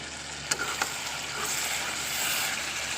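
Tomato sauce sizzling in a hot pan while being sautéed for chicken afritada, a steady close frying hiss broken by a couple of brief stirring taps.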